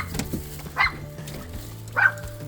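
Puppies give two short high yips about a second apart over a low steady hum, fairly close and moderately loud, with no talking.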